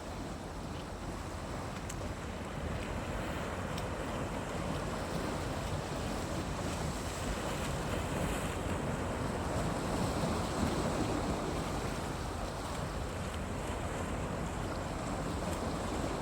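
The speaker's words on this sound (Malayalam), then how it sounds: "വളരെ മനോഹരമായ ഒരു കടൽ." Sea waves at Civitavecchia seaport near Rome wash in a steady, broad surf roar with constant wind noise on the microphone, an unbroken wash of water sound with no voices.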